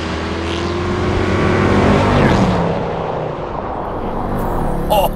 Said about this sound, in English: 500 naturally aspirated Mercedes horsepower from 0 miles per hour